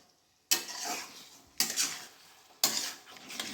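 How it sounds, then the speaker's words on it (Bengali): Chicken frying in a pan is stirred in three firm scraping strokes, each a loud clatter of utensil on metal over a steady close sizzle, with short pauses between strokes. "তো এবার মাংসটা আমি কষাতেই থাকবো।"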